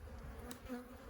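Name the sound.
small swarm of agitated honeybees buzzing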